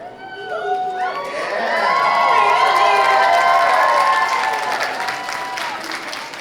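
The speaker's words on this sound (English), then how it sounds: "Clap for my lack of sleep." An anime convention crowd claps and cheers, with whoops and shouts rising into loud applause that peaks midway and then gradually tapers off.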